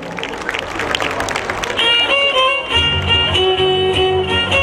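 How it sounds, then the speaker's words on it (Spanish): Applause for a folk ballet performance by a ballet folklórico troupe: a dense crowd clapping throughout, with music and a held tone emerging midway, loud and close. "Fuerte los aplausos"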